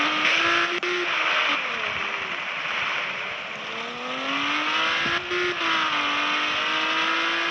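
Racing-game car engine in Dream Road, a steady loud whine with shifting pitch as it revs and drifts through turns, continuous and close for the whole stretch.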